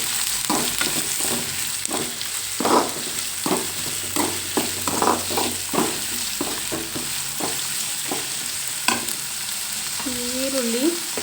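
Onions frying with a pinch of turmeric powder for a tomato sambar fill the pan with a steady moderate sizzle, while a spatula scrapes and taps in an irregular rhythm throughout.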